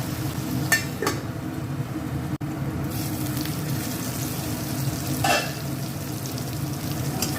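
A tomato and pea masala fries in a pan over medium heat, a steady close sizzle running throughout with occasional brief scrapes and clinks of stirring, and no voices.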